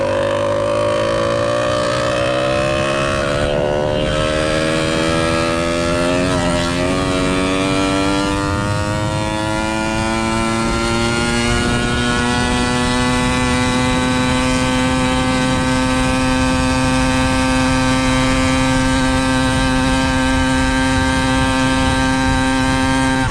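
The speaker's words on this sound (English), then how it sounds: "Now you could start hearing the bike start to die off." A motorized bicycle engine drones loudly and continuously at close range, its tone sagging slightly as the bike loses power, with no talking.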